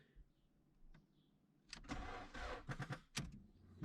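A car engine cranks repeatedly on a weak battery without catching, a sustained starter whir followed by several short choppy bursts, loud and close with no talk.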